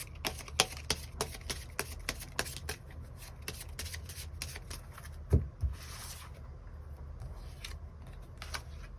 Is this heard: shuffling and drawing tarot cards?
yes